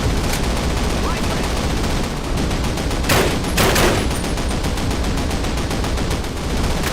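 Sustained automatic gunfire from an STG assault rifle in the Call of Duty video game, a dense, continuous rattle of rapid shots with a couple of sharper bursts near the middle.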